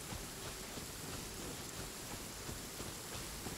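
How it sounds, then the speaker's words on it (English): Steady, dense rain hisses without a break across a game landscape in Genshin Impact, a uniform wash of falling water with no clear drops or thunder standing out. "The rain is annoying"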